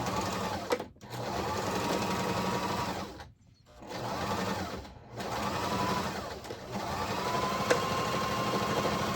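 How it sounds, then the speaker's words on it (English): A regular home sewing machine stitches a 5/8 inch seam on a quilted vest in several steady runs, its fast mechanical whir pausing briefly between bursts, close and clear with no talking. "So I'm going to sew that at 5/8 of an inch, just on my regular machine."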